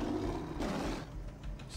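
A tiger roars in Far Cry 3, a low, sustained growling roar that fills the short clip, close and fairly loud with no talking.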